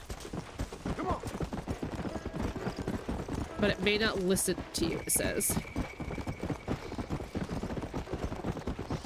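Hooves of a zombie horse clop steadily at a trot in the Red Dead Redemption: Undead Nightmare game, a continuous rhythmic patter running beneath a person's talk, with a brief squeal or whinny partway through.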